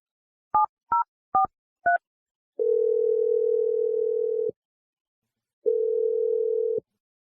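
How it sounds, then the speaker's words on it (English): Four quick touch-tone beeps from a telephone keypad dialing a number, followed by two long steady ringback tones separated by a short silence, clear and close with no voices. "Let's dial Callie's number and see what she has to say"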